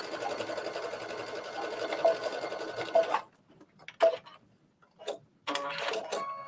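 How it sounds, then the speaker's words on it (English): A sewing machine back stitches along a trench coat belt, running as a steady loud whirr for about three seconds, then stopping, followed by a few short bursts and one final sustained run. "I'm going to just back stitch, stitch all the way to the other side"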